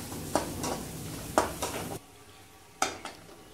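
Karna kizhangu (yam) curry masala sautéing in a pan, a close sizzle broken by three sharp spatula scrapes against the pan, the frying noise dropping away after the second.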